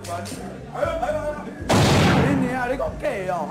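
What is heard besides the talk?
gunshot fired into the air from a handgun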